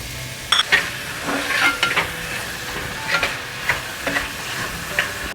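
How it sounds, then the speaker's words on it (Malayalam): Chopped tomato and onion fry in a pan for crab curry while a spatula stirs in repeated scraping strokes over a constant close sizzle. "തക്കാളി നന്നായിട്ട് ഈ സവോളയിൽ നല്ലപോലെ അലിഞ്ഞ് ചേരുന്നിടം വരെ നമ്മളിത് ഇളക്കി കൊടുക്കണം"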